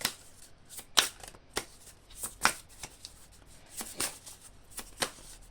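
Tarot cards shuffled by hand for a reading, a series of soft riffling flutters and snaps, close and fairly quiet, repeating irregularly with no talk.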